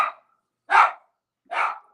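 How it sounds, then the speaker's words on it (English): A dog barks at a neighbor: three short, sharp barks spaced evenly apart, close and fairly loud, with silence between each. "Alert Dog barking at the neighbor"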